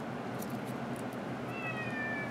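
A cat meows faintly in a quiet indoor room during an LED tape repair, with thin drawn-out cries heard alone and no talking.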